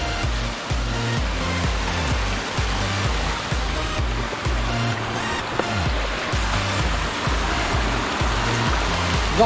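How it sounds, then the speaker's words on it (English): Steady rushing water from a waterfall at Purgatory Chasm pours continuously and loudly with a low rumbling undertone and no voices. "There's also a waterfall here at Purgatory Chasm."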